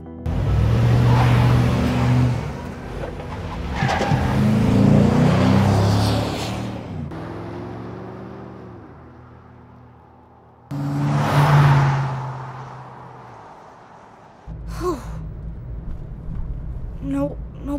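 A car pulls away and speeds off during a getaway in the video game Life is Strange 2, its engine rising and falling over several surges and whooshes, with voices talking over parts of it.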